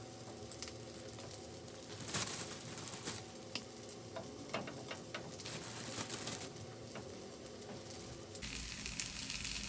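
Buttered buns toasting face-down on a hot griddle, a steady soft sizzle and crackle running throughout with scattered pops, the frying tone brightening near the end.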